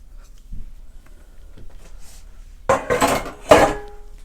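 A cake pan slides onto an oven rack, giving a couple of sharp metallic clanks and a rattle after a quiet stretch with faint small knocks.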